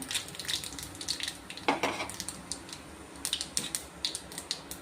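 Mustard seeds and urad dal tempering in hot sesame oil, a steady sizzle with scattered sharp pops and crackles throughout, close and alone.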